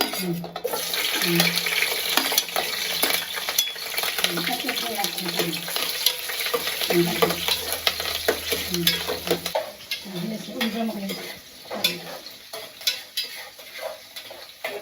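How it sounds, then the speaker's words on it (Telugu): Green chilli pieces frying in hot oil for fish curry, a continuous loud sizzle with stirring scrapes and occasional utensil clinks against the pan, close up and without talk. "ముందుగా పచ్చిమిర్చి ముక్కలు వేసుకుంటున్నానండి."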